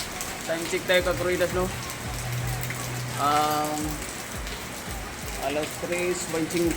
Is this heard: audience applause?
no